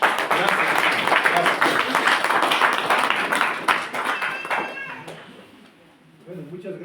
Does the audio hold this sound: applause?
yes